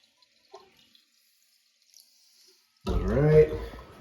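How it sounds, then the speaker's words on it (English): Water pours into a toilet high tank at close range, a steady rushing splash that starts abruptly after near-silence with a few small clicks. "So got my water here. We're gonna fill the tank"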